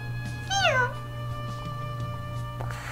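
A single clear cat meow rising and falling, close and prominent over a steady low hum and quiet background, with no purring evident afterward.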